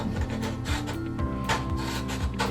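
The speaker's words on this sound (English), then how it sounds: "Scrape away all that chalk paste." Chalk paste is scraped off a surface with a tool, producing continuous close, gritty rubbing strokes with repeated rasping passes over a couple of seconds.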